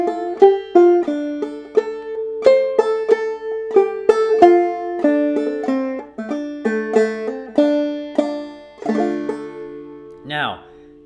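Plucked banjo picking out the old-time tune Hog Eyed Man, a steady run of bright, ringing notes with a brush-thumb strum near the end, close and solo with no voices.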